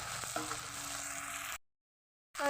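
Potatoes added to mutton frying in spices in a pan: a steady, close sizzle that cuts off into a brief silence before resuming.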